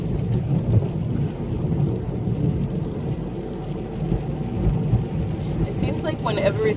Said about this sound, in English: it starts raining harder.